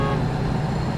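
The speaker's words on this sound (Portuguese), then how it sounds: "Buzinando a boa esse Mercedão." A Mercedes LS 1938 truck in Euro Truck Simulator 2 sounds its horn in one loud, sustained, droning blast that holds steady throughout.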